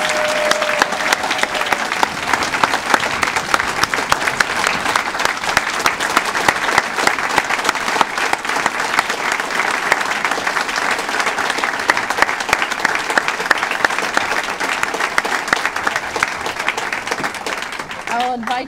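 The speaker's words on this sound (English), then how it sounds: "Please join me in another round of applause for all of our 2011 community heroes" Sustained, dense applause from a large audience at a 2011 community heroes awards ceremony fills the room evenly for nearly twenty seconds, loud and close, with no break in the clapping.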